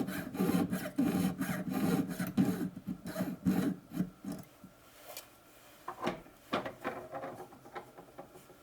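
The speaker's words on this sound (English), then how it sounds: "Measure and cut a 1/4-inch piece of sterling silver tubing" A fine saw cuts through heavy-wall 2 mm sterling silver tubing with a quick, steady rasping stroke that slows into sparser, separate strokes toward the end, close and moderately loud, with no talking.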